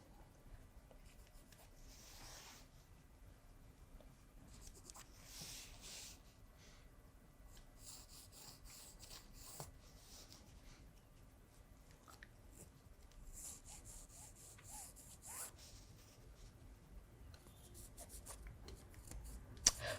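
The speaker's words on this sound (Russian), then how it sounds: "ручкой прочертим" A pen draws a line across a fabric dress pattern for a white summer dress with flounces, giving faint, soft scratchy strokes that come and go against a quiet background, with no talking.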